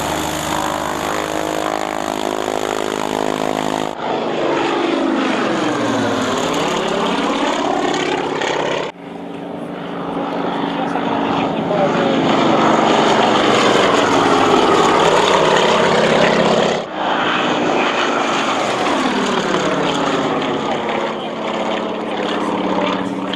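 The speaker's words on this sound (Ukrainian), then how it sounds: "Коли дивишся на чималу кількість спортивних літаків і їхніх пілотів, які готуються до показових виступів" Sport propeller airplanes fly over an airfield before an aerobatic display, their engines droning loud and steady with rising and falling pitch as they pass close by, the roar filling the clip with no talk.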